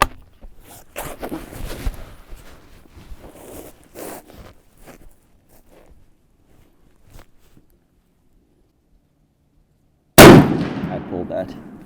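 A Mossberg Patriot Predator bolt-action rifle in 6.5 PRC fires a single loud, sharp shot from the prone position. The shot comes near the end, after a stretch of soft handling and rustling noises and near silence.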